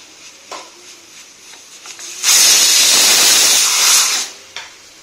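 A pressure cooker on the stove with frying onion and garlic lets out one loud, sustained whistling hiss of steam lasting about two seconds, with quieter kitchen clatter before and after.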